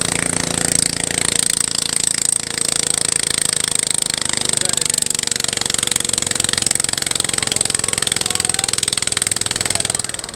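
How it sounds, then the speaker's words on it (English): Mini tractor pulling engines at a village preservation event, a loud continuous rattling engine roar with a steady high-pitched whine, heard nearby with crowd noise underneath. "this is mini tractor pulling"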